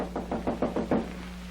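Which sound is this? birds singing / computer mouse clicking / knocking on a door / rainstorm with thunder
knocking on a door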